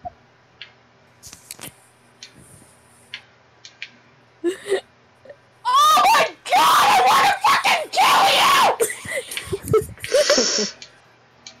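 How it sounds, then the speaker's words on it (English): A girl raging at Minecraft lets out long, loud, strained screams in a burst of several shrieks, after scattered quieter clicks and small sounds, with a few breathy yelps near the end. "How the fuck does your throat survive the screaming?"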